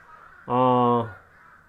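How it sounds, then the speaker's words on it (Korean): A single crow gives one clear, harsh caw lasting about half a second, fairly close and loud against a quiet background. "까마귀 잘 우네"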